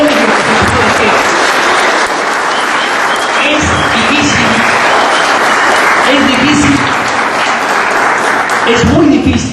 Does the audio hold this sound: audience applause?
yes